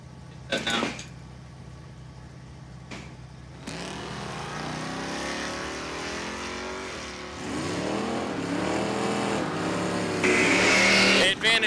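A lime green El Camino and a baby blue Mopar launching side by side at a drag strip in sportsman eliminations, engines roaring and climbing through gears, growing louder, while an announcer talks over the action.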